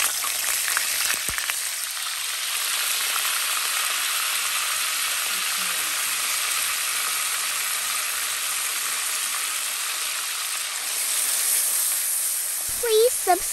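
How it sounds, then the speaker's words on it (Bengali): Spices tempered in hot oil for a Bangladeshi hilsa fish and mustard dish, a loud continuous close sizzle that hisses steadily, with a few clinks near the end. "এখন আমি তেল গরম হয়ে গেছে, এখন আমি বাগার দিব।"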